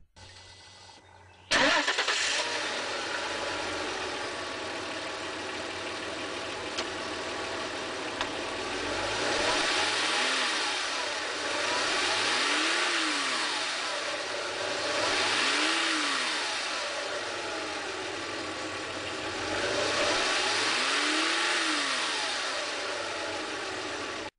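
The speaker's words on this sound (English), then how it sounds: "my Volkswagen Passat is powered by a V6" A Volkswagen Passat V6 engine starts, settles into a steady idle, then revs up and down several times in repeated swells, close and fairly loud.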